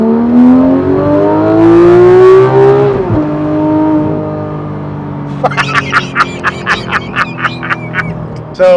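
A Porsche GT3 RS engine hums steadily while driving, with a rising then falling tonal whine and a run of sharp, rhythmic pops or blips near the end, heard from inside the cabin.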